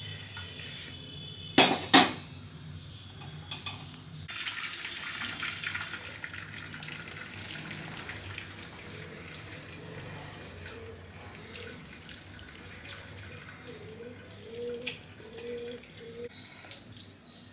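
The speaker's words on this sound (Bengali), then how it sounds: "ঠান্ডা জল দিয়ে ধুয়ে দিচ্ছি, টক জলটাও বেরিয়ে যাবে" Cold water rinses freshly curdled chhana for Bengali rasgulla, a steady splashing rush that starts after a few seconds and runs on at moderate level, with a couple of sharp clinks near the start.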